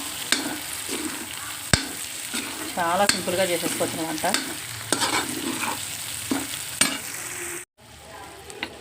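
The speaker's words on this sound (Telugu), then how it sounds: "వాసన పోయేంత వరకు వేయించేయాలి" Oil sizzles steadily in a pan of small-egg curry while a utensil scrapes and stirs, with a voice talking over the frying before it cuts off abruptly near the end.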